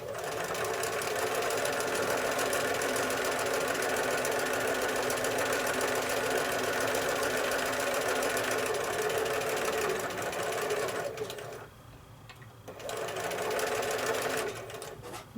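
Sewing machine stitching through pieces of a disappearing nine patch quilt block, a loud steady whirring drone of rapid stitches that dips briefly near the end before running again.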